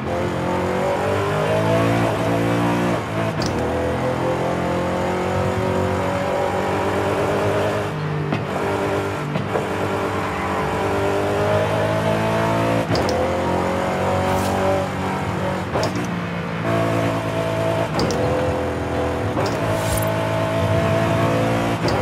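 A car driven hard in Forza Horizon 5, a loud continuous engine roar with repeated revving climbs and gear-shift drops, punctuated by sharp transient knocks.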